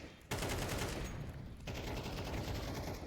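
A gunfire spray in the Counter-Strike video game: dense automatic fire in two sustained bursts with a short gap, loud and rattling over constant game noise.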